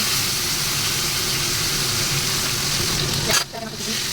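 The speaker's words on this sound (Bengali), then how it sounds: "তেলাপিয়া মাছ রান্না করছি" Tilapia fish curry with winter vegetables sizzling and frying steadily in a pan, a dense, loud hiss throughout with a brief stir or clatter near the end.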